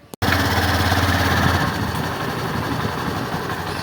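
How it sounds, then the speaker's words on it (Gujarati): A motorcycle engine starts abruptly and runs close by, a loud steady idle with a rough low throb that settles slightly after a second or so. "આપણી બાઇક તૈયાર કરીએ"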